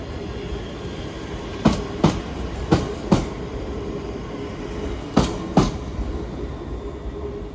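ScotRail commuter train arriving at Glasgow Central terminus from Lanark, a low steady rumble with several sharp rhythmic clacks of wheels over rail joints in two clusters as it rolls in nearby, no talk.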